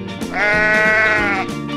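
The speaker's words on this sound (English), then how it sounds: "Sheep." A sheep bleats once, loud and close, a single drawn-out wavering call with no talking over it.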